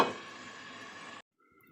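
A metal lid lands with a sharp clank on a pot of spiced chicken curry. A bright ringing tone then hangs for about a second before cutting off abruptly, leaving near silence.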